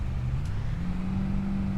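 A car drives in the Farming Simulator 25 video game, its steady engine drone humming continuously at moderate loudness with no talking over it.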